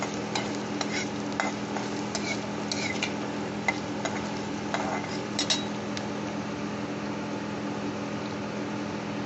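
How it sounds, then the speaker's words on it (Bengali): Chopped onion and chilli fry in white oil, a steady hiss of sizzling with scattered sharp ticks and scrapes of a utensil stirring the pan, moderate level and no talk. "সাদা তেলেই করছি আর এখন আমি এই পেঁয়াজ আর লঙ্কা কুচানোটা দিয়ে দেব"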